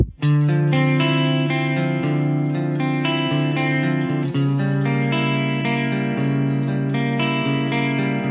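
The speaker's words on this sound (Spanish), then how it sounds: "tuvimos en el sonido limpio un sonido clean warm, como lo menciona de este lado, con un poco de modulación, un poco de delay y un poco de reverb" An electric guitar rings through a Blackstar amp on a clean, warm setting, with sustained chords and notes colored by modulation, delay and reverb, playing alone and fairly loud.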